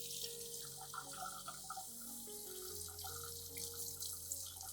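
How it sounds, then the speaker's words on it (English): Clean running tap water pours over a whole plant being rinsed, a steady broad hiss of flowing water with faint tonal hum underneath, continuous and close for the whole stretch. "I'll thoroughly rinse the entire plant under clean running water"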